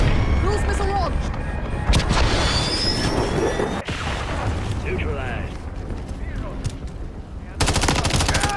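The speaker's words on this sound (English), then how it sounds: "Calling it in. Cruise missile launch." Heavy blasts and rumbling gunfire from a cruise missile strike in Call of Duty: Modern Warfare III, continuous and loud, with a sudden brighter burst of noise near the end.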